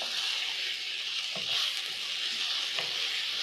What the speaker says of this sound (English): Then you're going to cook for around 1 to 2 minutes until the tomatoes are fully cooked down.